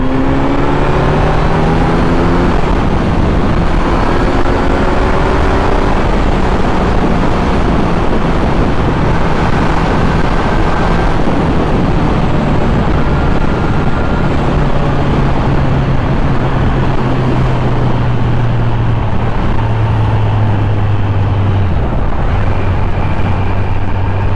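A 2021 Kawasaki Z900 motorcycle ridden through city streets, its engine droning steadily and loud close to the mic with rising and falling pitch as it accelerates and shifts, over constant wind rush.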